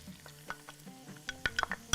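Onion frying in a pot while being stirred, with soft sizzling broken by several sharp spoon-against-pot scrapes and clinks, close and fairly quiet.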